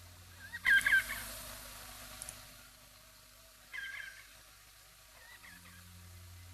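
A bird gives a few sharp, harsh calls in separate short bursts, moderately near, against a quiet background hum.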